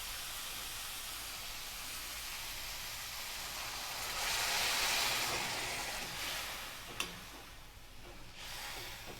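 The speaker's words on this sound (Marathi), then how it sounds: "मी पाणी टाकून घेते ह्याच्यामध्ये" Water poured into misal frying in hot oil, a steady loud sizzling hiss that swells and then settles, with a small clink near the end.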